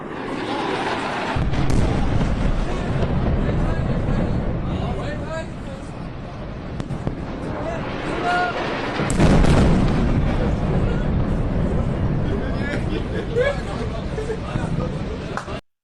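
Heavy bombing explosions and bomber aircraft over Beirut, a continuous loud rumbling roar with booming bursts and swelling surges, mixed with crowd babble and voices.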